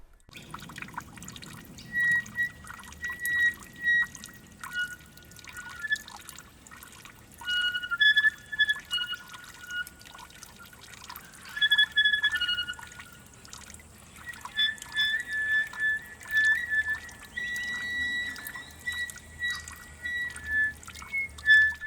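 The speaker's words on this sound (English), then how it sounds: "become woven into the sustained and jittery texture of the trickling water" Soft trickling and dripping water in a soundscape recording, faint and jittery, interwoven with sustained breathy instrumental tones that come and go in phrases.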